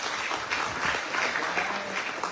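A crowd at a political rally in Kuala Nerus, Terengganu applauds steadily, a dense wash of many hands clapping at an even level throughout, with no voices standing out.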